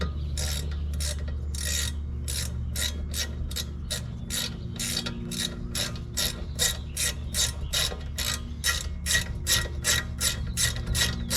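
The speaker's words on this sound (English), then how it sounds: "These ones get torqued down to 17 foot-pounds." Rear brake bolts on a 2020 10th-gen Honda Civic being tightened with a hand ratchet-style torque wrench, giving a steady run of rapid, close clicking pawl strokes that continues throughout with no talking.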